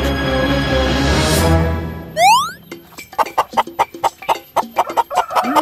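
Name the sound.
chickens clucking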